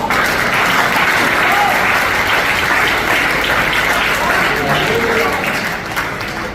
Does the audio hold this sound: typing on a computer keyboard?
no